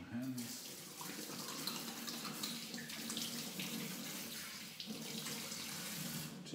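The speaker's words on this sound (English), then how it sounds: "I'll wash my hands." Running tap water pours steadily into a kitchen sink while hands are washed clean of flour and chilli, a continuous close splashing rush.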